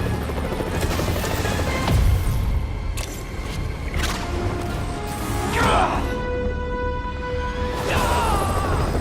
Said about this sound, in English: They're stealing a chopper.